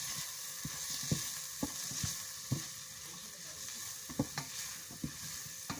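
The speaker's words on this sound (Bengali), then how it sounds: "এখন আমি আবারও খুব সুন্দরভাবে নেড়ে ছেড়ে দেব" Chili, turmeric and coriander powders fry in hot oil for a chicken roast while being stirred, a steady close sizzle broken by irregular scraping clicks of the spoon against the pan.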